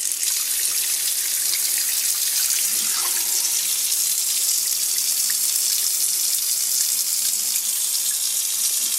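Steady, loud rush of tap water pouring into a bath to rinse colour from bath balls, continuous and unbroken with no talking.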